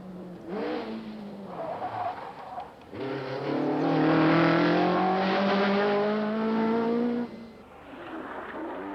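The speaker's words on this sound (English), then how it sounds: "night halt behind Mikkola and Vatanen, he attacked the tarmac of the Great Orme stage as if his career depended on it" A rally car racing flat out on the tarmac of the Great Orme stage, its engine rising in pitch as it accelerates hard past at close range, loud and raw, with brief gear-change drops and no voices.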